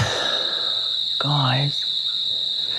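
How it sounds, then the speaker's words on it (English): Cicadas keep up a steady high-pitched buzzing drone throughout, and a brief voice-like sound briefly rises over it midway. "Oh, cicadas."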